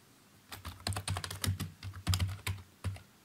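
Quick bursts of keystrokes on a computer keyboard while entering Python code for dictionaries, close and fairly quiet, with irregular clusters of clicks and short pauses.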